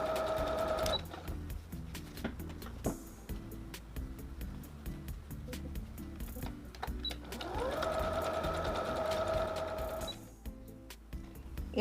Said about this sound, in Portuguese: vou dar início a essa costurinha de segurança